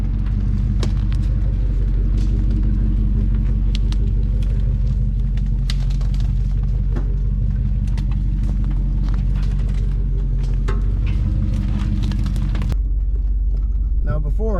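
Jeep with a 5.9L engine crawls off road, a low steady rumble with scattered clunks and knocks from the factory front sway bar bushings, continuous and close throughout.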